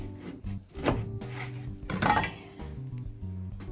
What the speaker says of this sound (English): So we're going to chop off the end.